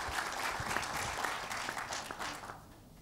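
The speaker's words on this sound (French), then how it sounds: "Sous vos applaudissements, mesdames et messieurs." Audience applause at the MEDays 2023 conference on economic sovereignty in Africa: dense, steady clapping from a large hall crowd that thins and fades away near the end.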